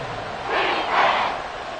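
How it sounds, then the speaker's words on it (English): A stadium crowd at an American football game roars in a steady, dense swell that peaks briefly and holds, loud and distant-sounding with no clear single voice. "This crowd doing all they can."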